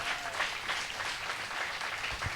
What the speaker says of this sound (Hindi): इनके हाथों से जोर से ताली बजाएं